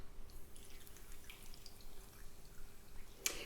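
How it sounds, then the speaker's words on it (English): Water is poured onto dry, brittle broken-up clay, which soaks it in with a very faint, soft fizzing and a few light drips, close and quiet, ending in a brief sharper splash. "When you add water to it, it has a lovely hissing sound."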